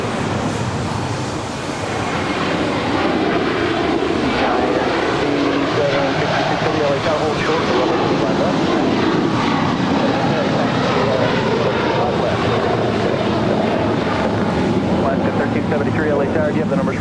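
An Air China Boeing 777 taxis toward runway 25 right at LAX, its engines a loud continuous roar and whine that swells after the first seconds and holds steady, with radio voices over it.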